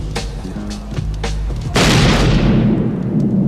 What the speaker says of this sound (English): you think it's a gunshot, but it's just a car.